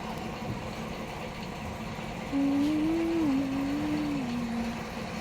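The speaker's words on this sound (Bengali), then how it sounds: "বলতে না বলতে আরও একটা নৌকা আসছে" A boat passes on the water near a house. A faint, steady engine drone is heard, with a humming tone that rises midway and wavers before fading.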